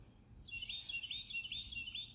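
Outdoors in the morning, a single bird sings a quiet, high, wavering warble for about two seconds against faint background hiss.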